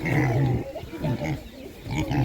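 Piglets about seven weeks old at a livestock market grunt and squeal in repeated short bursts, close and fairly loud, with a faint voice in the background.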